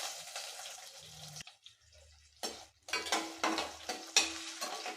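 A handful of small shallots drops into hot oil in a pan for Tamil-style rice and lentil dish, giving a sudden crackle, then stirring scrapes and bursts of sizzling with utensil clinks against the pot.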